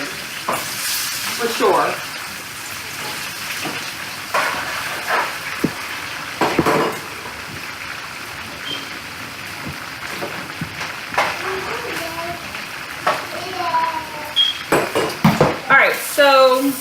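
Raw cut potatoes dropped into a hot pan fry with a continuous sizzle, while a person talks over it and utensils clatter now and then.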